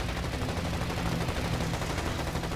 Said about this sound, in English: Machine gun fire tears Sakai's canopy apart.